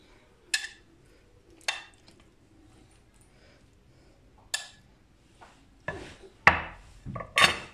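Chicken shawarma being laid onto Syrian bread, close by: a handful of soft, scattered taps, rustles and squishy scrapes separated by quiet gaps, with a quick cluster of slightly louder handling noises toward the end.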